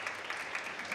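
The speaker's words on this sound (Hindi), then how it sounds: "तो जोरदार तालियां हो जाए" Steady applause from a studio audience at a TV talent show, a dense even patter of clapping filling the moment as a performer is welcomed.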